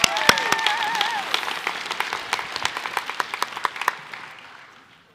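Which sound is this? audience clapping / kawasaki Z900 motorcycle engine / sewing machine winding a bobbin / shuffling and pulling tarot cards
audience clapping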